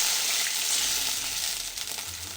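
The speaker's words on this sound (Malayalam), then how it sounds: "ഈ ഊറ്റി വെച്ച കഞ്ഞിവെള്ളം, അധികം കൊഴുപ്പില്ലാത്ത കഞ്ഞിവെള്ളം എടുത്തിട്ട് ഈ ചട്ടിയിലേക്ക് ഒഴിച്ച് കൊടുക്കാം." Rice water drained from cooked rice, low in starch, poured into a hot clay pan for a drumstick-leaf curry, giving a steady close hiss and sizzle that fades slightly near the end, with no talk.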